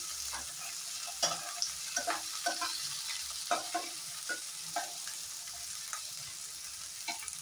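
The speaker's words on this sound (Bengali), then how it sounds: "এতটুকু তেল দিয়ে আমি পেঁয়াজ, ক্যাপসিকাম, টমেটো এগুলো আর কাঁচা লঙ্কা এগুলো সব আমি ফ্রাই করে নেব" Onion, capsicum, tomato and green chili frying in a little oil for an egg dish, a steady close sizzle broken by repeated scraping stirs of a spatula in the pan, with no talking.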